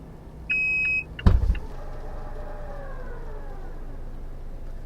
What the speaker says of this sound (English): now just press and hold this button to open the tailgate.